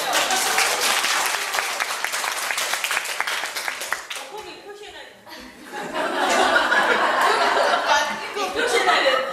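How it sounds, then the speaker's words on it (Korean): An audience at a lecture applauds, brisk clapping at first, then fading into chuckles and laughter, with a second swell of clapping and crowd noise in the latter half. "박수 주세요"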